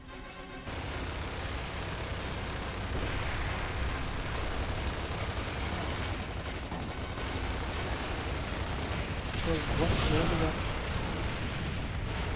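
Dense, sustained gunfire in Gears of War 2 gameplay, with rapid automatic bursts and explosive blasts over a steady rumble, loud throughout, with a swell of heavier fire near the end.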